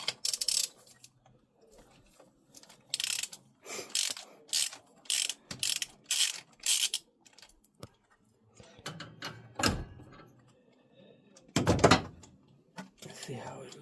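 Quick bursts of ratcheting clicks from a socket ratchet loosening spark plugs on a Nissan R34 engine, in repeated short strokes with pauses, close and fairly loud; someone talks between the bursts.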